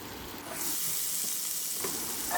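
Chicken frying in a covered pan gives a steady broadband sizzle. It swells in loudness after the first half second and holds as a continuous hiss, with a faint clink near the end.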